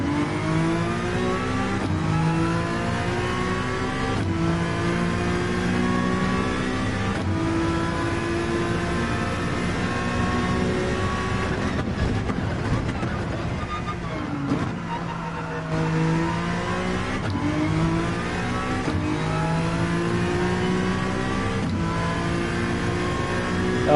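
A GR3-class race car engine in Gran Turismo 7 drones loudly and steadily, climbing through repeated revving acceleration runs with gear-shift breaks, dipping briefly as it slows and then pulling hard again, with no talk over it.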